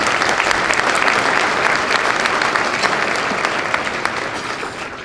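A seated audience at a county address gives young performers a long, full round of applause that holds steady and slowly thins toward the end.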